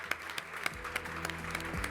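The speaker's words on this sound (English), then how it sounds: "Big applause for her." An audience at a Latin American digital transformation panel applauds as a moderator takes the stage, the clapping running under a musical backing with regular beats for about two seconds.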